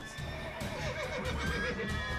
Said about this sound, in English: I'm kind of freaking out the horses though.